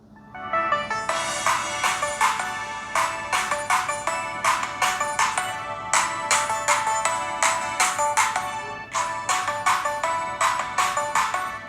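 Ringtone melody played through the loudspeaker of a cheap RM150 budget smartphone with a Snapdragon chip, loud and slightly distorted at max volume, repeating bright tonal phrases steadily with no talking.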